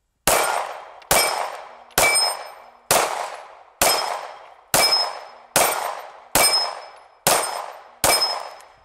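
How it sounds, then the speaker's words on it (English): Smith & Wesson CSX pistol rounds strike a 6-inch steel target at 10 yards, ringing in nine evenly spaced sharp clangs, each with a long fading metallic ring, loud and unaccompanied by speech. "10 yards, 6-inch steel target, and then I'm gonna shoot it, 10 rounds out of it"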